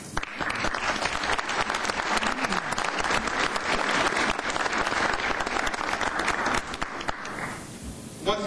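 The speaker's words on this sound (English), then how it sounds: "let's give their parents a round of applause" Sustained applause from an audience at a council meeting, loud and steady for about seven seconds before thinning out, with some speech faintly underneath.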